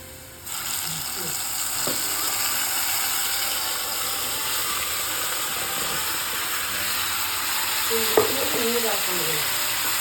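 Pickle masala sizzles in hot oil in a pan, a steady close frying hiss throughout with a few scraping stirs and clinks, and a voice speaking briefly under it.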